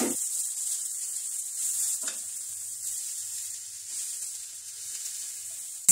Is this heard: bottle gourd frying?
yes